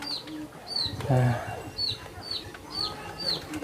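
Chickens cluck and chirp in a rural Thai kitchen setting, with several short calls spread across the moment. Ambient noise and a low hum sit underneath.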